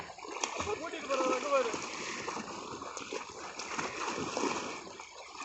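A dog swims and splashes in water beside slippery rocks, and choppy splashing churns steadily throughout at moderate loudness while people talk and call out over it outdoors.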